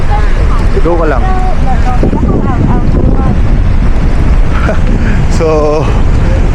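Strong wind buffets the microphone over crashing surf at a rocky beach in Taiwan, a steady loud roar with people talking and calling out over it.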